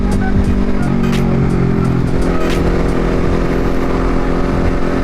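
A Honda CBR250RR motorcycle engine running loud and close, a steady droning idle-to-rev tone with a constant mechanical rumble and no speech.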